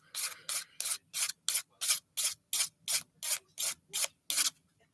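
Dip powder nails being filed in about thirteen quick, evenly spaced rasping strokes, close and crisp with no talk over them.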